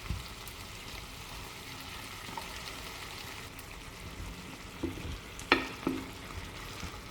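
Okra cooking in a pan with steady loud sizzling and frying hiss, a splash of water added, then a few sharp clinks and scraping stirs near the end.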